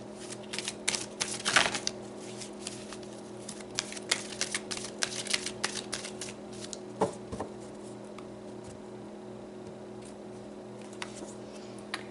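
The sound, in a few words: shuffling tarot cards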